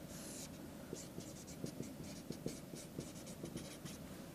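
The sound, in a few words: writing out a math equation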